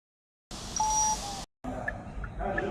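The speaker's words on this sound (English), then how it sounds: "1 beep." Electronic beeps from a Lonsdor K518 PRO key programmer while a remote key is added to a 2014 Peugeot 2008, a steady tone broken by a brief gap, then softer chirps over faint background noise.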